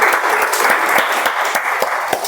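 Enthusiastic applause at a Toastmasters club meeting, a steady round of many hands clapping with distinct rhythmic claps standing out, close and loud.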